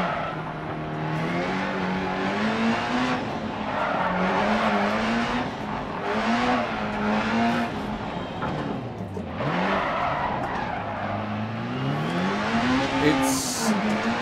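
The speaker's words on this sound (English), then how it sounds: "Going sideways, full four-wheel skid there." A rally car in the Dirt Rally video game slides sideways through a four-wheel skid, its engine droning and revving steadily up and down throughout with a faint tire hiss, loud and continuous with no pauses.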